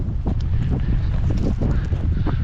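Strong wind buffets the microphone in a steady, rushing roar while descending loose rock on McFarland Peak in the Spring Mountains near Las Vegas, Nevada, with no voices over it.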